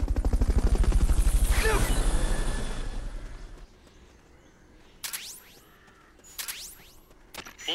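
Helicopter rotor chopping loudly and rhythmically in the Metal Gear Solid: Peace Walker video game during a Fulton recovery, fading out after a few seconds, followed by sparse sharp bursts.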